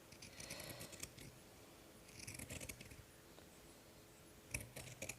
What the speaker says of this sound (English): just trim down that seam allowance